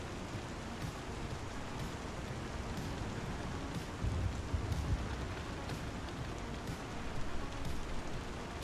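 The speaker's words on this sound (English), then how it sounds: "The rain sounds, which are just a bug" Rain in the video game Star Citizen, a steady faint hiss of falling rain with soft evenly spaced pulses and a brief low thump, with muffled speech underneath.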